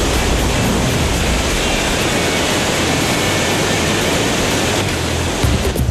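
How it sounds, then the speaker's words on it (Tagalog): A powerful waterfall roars with heavy water pouring down a tall drop, a loud, steady broadband rush filling the whole clip without talk. "Pero di hamak na mas malakas ang buhos dito ng tubig."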